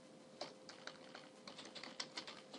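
Fast, light keystrokes on a computer keyboard as a tcpdump command is typed, a close, quiet, irregular run of clicks with no speech.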